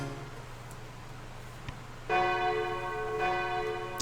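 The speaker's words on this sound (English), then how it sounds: "That's the bell." A church-style bell rings out in the video game Kara no Shoujo, its clear harmonic tone striking loudly midway and sustaining over a low background hum with no talk.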